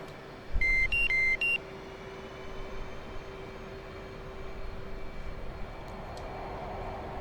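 F/A-18 jet engines spooling up in the DCS flight simulator: a steady low turbine drone that gradually swells, opened by a few short cockpit beeps.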